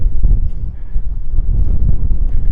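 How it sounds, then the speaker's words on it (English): Heavy coastal wind on a beach in North Naples, Florida buffets the microphone in a continuous low rumble, loud and close, with no other clear sounds. "it's really, really windy up here"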